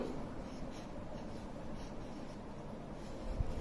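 A pen scratches across a drawing sheet in steady, soft strokes, close and quiet, with a brief louder scrape near the end and no talking.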